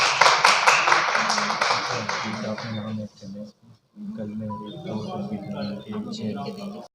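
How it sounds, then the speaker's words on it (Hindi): An audience claps for the poet Dilawar Hussain at an Urdu, Saraiki and Punjabi mushaira at Multan Tea House. Dense applause fills the first three seconds and fades, then someone speaks over a quiet room. "इनके लिए तालियां तो बजा दें"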